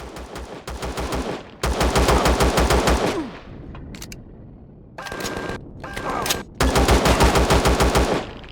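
Enemy gunfire in the space survival game Empyrion, loud bursts of rapid automatic fire in several long volleys broken by short pauses, close and harsh with no talk.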